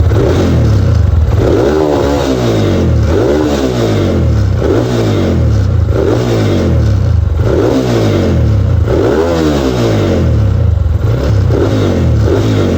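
A Yamaha motorcycle engine fitted with a racing CDI is revved repeatedly, loud and close, in rhythmic bursts climbing and dropping about every two seconds over a steady rumbling idle, with no talking.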